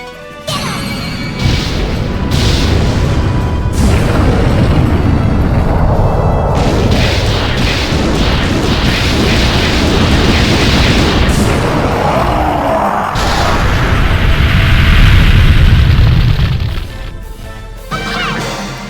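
Terra Fire explosion spell from Disgaea 4, a loud, sustained barrage of smashing blasts and booming impacts rolling on for many seconds, swelling toward the end before fading to a quieter tail.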